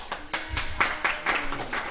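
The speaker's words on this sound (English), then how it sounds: "Clap your hands for navigation." A live audience claps hands at a talk, a burst of several overlapping claps repeating in quick uneven bursts across the moment, fairly close and clear with no voices over it.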